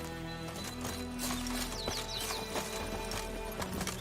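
Roach, a horse in The Witcher 3, gallops in a steady, rapid clip-clop of hooves up close, loud and continuous over a faint game backdrop.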